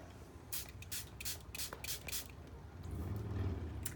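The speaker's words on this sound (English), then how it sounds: "So I take a brain enhancing spray, an energy boost, and these are just sprays that I literally go like this" A small bottle of oral brain-enhancing spray is shaken and pumped, giving a run of quick, faint hissing spritzes in a row, followed by a low rumble, with no talking during it.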